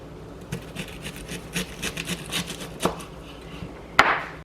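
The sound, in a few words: slicing onion into small slices with knife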